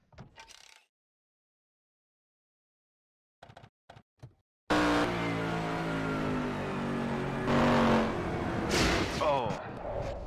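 Stock car crash heard from the in-car camera during a race, a sudden loud roar of engine and impact noise bursting in after a few brief knocks and near silence, then sustained, dense rumbling and scraping up close.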